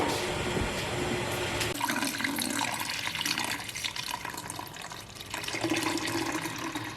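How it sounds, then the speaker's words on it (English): Warmed milk is poured through a strainer into a container, giving a continuous splashing, running-liquid sound close by, broken by a short pause partway through before the pouring resumes. "Okay, so I'm gonna try to strain it into this container."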